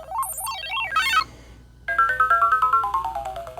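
Galaga tractor-beam capture on a My Arcade Galaga Pocket Player Pro handheld: warbling zigzag electronic tones, a brief pause, then a descending stepped chiptune melody with rhythmic pulses, loud and close with no talk.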